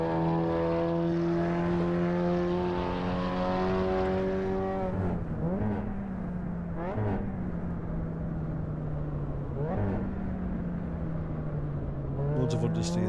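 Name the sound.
race car engine at full throttle in video game Assetto Corsa Evo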